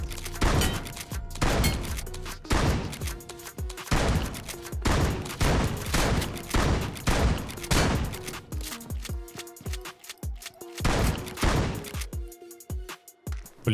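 Rapid shotgun gunfire in the Metro Royale mode of a battle-royale shooter, loud dense bursts of blasts fired one after another for many seconds, with sharp metallic reload and impact clatter between shots.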